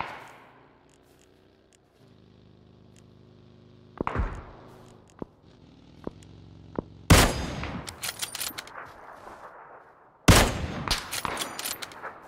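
Gunfire in the battle royale game PUBG: a few sharp isolated shots, then two loud bursts of rapid fire around the middle and end, with a low engine-like hum underneath at the start.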